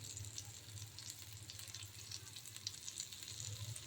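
Pesarattu egg dosa sizzling on a hot pan, a steady, soft crackling fry with faint bubbling pops, close and alone.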